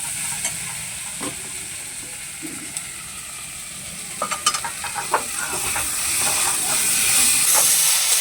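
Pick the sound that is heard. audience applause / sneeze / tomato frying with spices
tomato frying with spices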